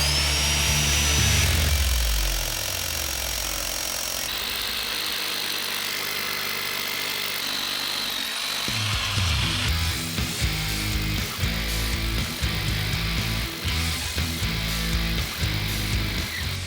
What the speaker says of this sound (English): We're getting some drilling action.